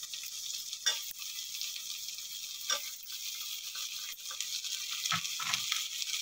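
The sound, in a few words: potatoes frying in oil for onion curry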